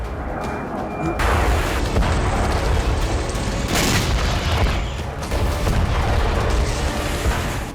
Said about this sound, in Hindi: ब्लास्ट कितना जबरदस्त और भयावह है